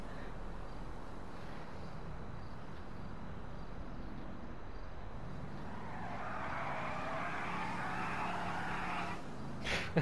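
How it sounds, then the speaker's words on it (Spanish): A car arriving in the video game GTA V, heard as a faint, distant engine and tire rush that swells midway through and then fades near the end over quiet background ambience. "Bueno, por ahí viene un coche."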